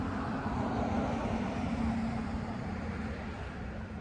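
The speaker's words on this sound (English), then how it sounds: "let's wait till this car pass by because it's loud as hell." A loud car passes close by outdoors, a steady broadband roar and rumble that swells slightly and then eases over four seconds, with no talking.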